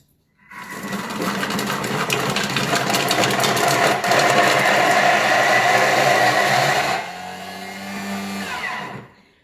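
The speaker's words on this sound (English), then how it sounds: "So when that noise went down, it tells me it's not going to blend anymore because it's kind of up the wall." A Thermomix TM6 blends mango and oats at high speed, a loud close motor whir that holds steady for several seconds, then drops to a lower, lighter pitch before stopping.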